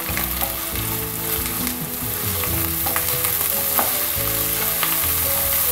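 Ginger paste with salt frying in a pan, a steady dense sizzle holding loud and close throughout with faint stirring scrapes, no voices.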